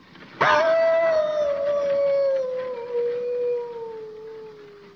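A wolf howls once, a long sustained tonal cry that starts abruptly loud, then slowly falls and fades over several seconds. It is close and clear, with no speech over it.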